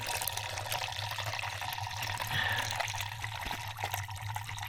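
Coolant from a BMW 325xi drains in a quiet, continuous trickle into a plastic yogurt container, faint and steady throughout.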